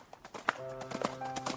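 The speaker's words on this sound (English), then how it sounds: "Another horse trotted up." Horse hooves clip-clopping on dirt and grass at a campsite on private property near Salem, a series of irregular hoof knocks, moderately close, with a faint tonal hum running beneath.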